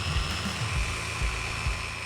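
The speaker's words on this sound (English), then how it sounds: "I speed the polisher up to max speed with no pressure applied" A car paint polisher spins at maximum speed with no pressure on truck paint, giving a steady high-pitched whine with a low wobbling hum beneath, close and continuous.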